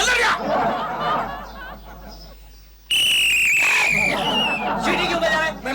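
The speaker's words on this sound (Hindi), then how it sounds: "सीटी क्यों बजा रहा है?" A watchman blows a shrill, sustained whistle in a residential society, the loud tone cutting in sharply midway and holding for about a second before fading under ongoing talk and crowd chatter.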